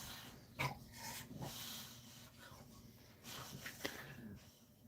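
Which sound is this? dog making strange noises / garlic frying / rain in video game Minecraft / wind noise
dog making strange noises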